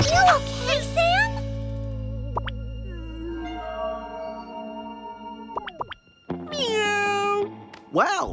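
A cat meows repeatedly with rising, wavering cries, close and loud, some drawn out, with a short pause near the middle.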